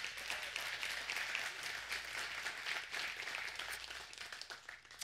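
A church congregation claps together in a continuous, fairly faint round of applause heard from a distance, sustained evenly throughout.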